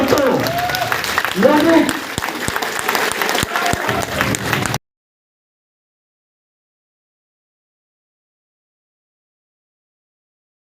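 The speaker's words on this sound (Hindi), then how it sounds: "जबरदस्त ताली होनी चाहिए दोस्तों।" Loud applause from the audience at a DXN meeting program, with crowd noise and a voice talking over the clapping, cutting off abruptly partway through.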